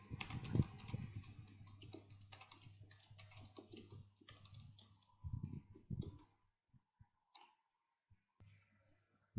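Quick bursts of keystrokes on a computer keyboard while entering program code, close and quiet, with a steady low hum underneath, then sparse single clicks with pauses.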